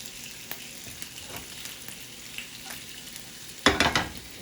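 Room-temperature pasta sizzles and crackles in a hot pan over medium heat as it is stirred, with soft scraping taps and a louder clatter near the end.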